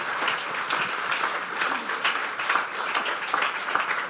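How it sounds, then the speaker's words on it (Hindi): A church congregation claps for Nazir during a sermon, a steady, fairly close wash of applause that stays even for the whole few seconds. "नाजिर के लिए ज़ोरदार तालियां बजाएं"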